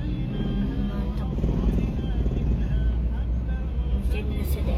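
Bus with a Mercedes engine rumbling steadily from inside the cabin, a low continuous drone with faint rattles, while people talk over it.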